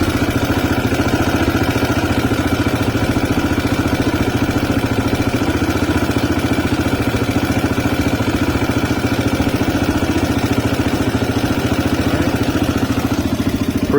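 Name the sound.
CSC RX3 motorcycle engine idling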